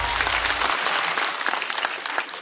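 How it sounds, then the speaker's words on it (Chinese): A studio audience at a Chinese stand-up comedy show claps loudly for a comedian, a dense sustained wash of applause that stays full throughout and tapers only slightly toward the end. "再次掌声送给季爷。"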